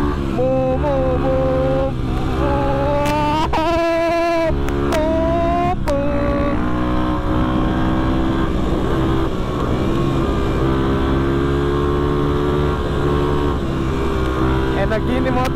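A motorcycle engine drones steadily and loudly close by as the bike rides through a corner, its pitch shifting slightly, while a rider's voice talks over it during the first few seconds.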